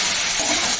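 Food frying in a pan while a prawn curry with kohlrabi and new potatoes is made, a dense close sizzle with stirring, brief and steady, no talk.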